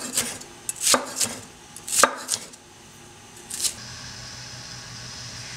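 A knife dices peppers on a board in quick bursts of crisp chopping strikes, then the cutting stops and a low background hum carries on alone.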